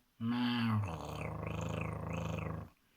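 A voice imitates a cat purring, a low, continuous rumbling hum lasting about two and a half seconds with a gently wavering rhythm.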